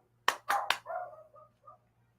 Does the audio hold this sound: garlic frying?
no